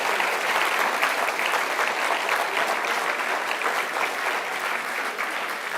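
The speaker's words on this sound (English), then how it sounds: "I'd ask for a round of applause for them all enabling today to happen." Steady, dense audience applause at a business innovation competition grand final, loud and sustained throughout with no speech over it.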